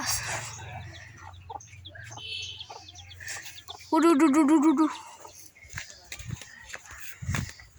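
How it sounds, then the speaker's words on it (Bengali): Chickens and chicks on a farm cluck and call, with one loud, wavering call standing out near the middle and softer clucks scattered around it. People talk nearby throughout. "এখানে আছে, দাঁড়ান গাইস, এখানে মুরগির বাচ্চা একটা"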